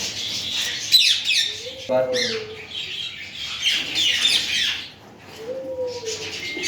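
Parakeets, including Derbyan parakeets, calling in an aviary, loud harsh squawks and chirps close by, repeated in bursts with overlapping calls and short whistled notes.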